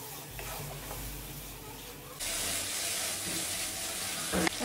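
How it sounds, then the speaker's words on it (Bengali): Spices for a beef tripe curry sizzle and get stirred in a pan, a low steady frying hiss that turns sharply louder and brighter halfway through and keeps going, with a brief scrape near the end. "এখন মশলাটা ভালো করে বসিয়ে নিব।"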